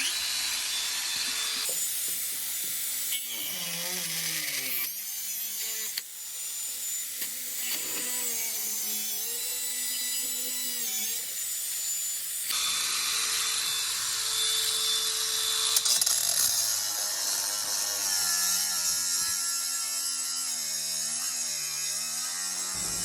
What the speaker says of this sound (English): And after a few minutes with the angle grinder, it was free.